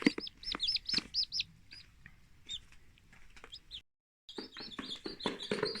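Newly hatched chicks from an incubator peep in rapid high-pitched chirps, many overlapping and close by, broken by a brief silence before the busy chirping resumes loudly.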